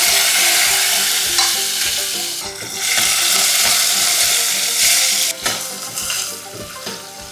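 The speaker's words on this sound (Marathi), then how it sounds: "तेल तापलं आहे मंडळी आपलं या लसूण टाकूया ह्याला भरपूर असा लसूण टाकायचा आलं आणि सोबतच टॅमॅटो पण टाकूया" Garlic, ginger and tomato hit hot oil in a pan, a loud close sizzle and spitting with rhythmic scraping and stirring against the pan, no talking.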